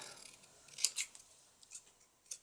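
A few crisp scissor snips cut through printed paper for vintage notecards, spaced irregularly in an otherwise quiet room.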